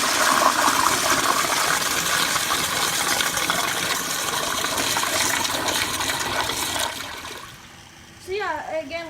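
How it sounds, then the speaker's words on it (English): A Crane Placidus toilet flushing with a full tank, loud rushing, gurgling water running strongly for several seconds before dropping away into quieter refill sounds. "I'll give it one more flush."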